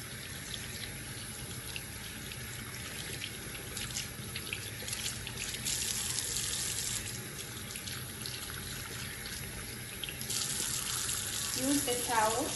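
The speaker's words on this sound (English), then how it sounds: "Rinse your hand with water." Water runs steadily from a tap into a sink while hands are rinsed, a continuous close splashing hiss with slight changes as the hands move through the stream, lasting about twelve seconds.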